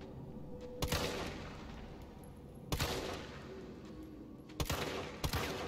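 Gunfire in Resident Evil 3 Remake: three separate bursts of rapid shots ring out over a steady low game ambience, each burst short and sharp.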